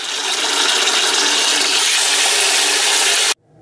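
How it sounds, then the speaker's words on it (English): Water gushing steadily into a container being filled for a Clonex cloning solution, a bright continuous splashing rush that stops abruptly near the end. "Let's go ahead and fill this up with water and put some Clonex into it."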